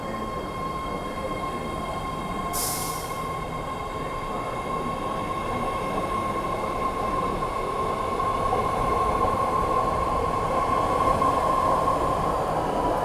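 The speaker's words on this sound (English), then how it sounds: "let's face the train and watch it go." A BART Orange Line train departs from a station platform, its steady rumble and rail hum close and continuous, with a sharp hiss near the start and a sustained tonal whine throughout.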